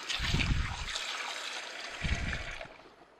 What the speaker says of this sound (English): open the valve on the bottom to get all the pulp out. Rinse it out.